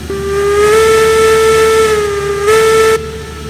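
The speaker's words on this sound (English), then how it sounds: "Let's see what the whistle sounds like." Steam whistle of a Climax locomotive in the train game Railroads Online, one loud sustained chime-like blast lasting about three seconds with a slight swell near the end, heard alone.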